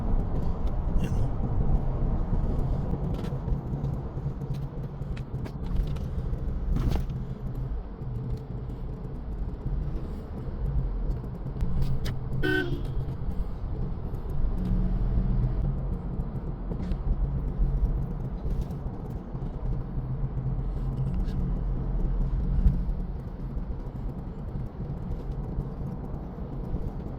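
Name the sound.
car driving in slight traffic at night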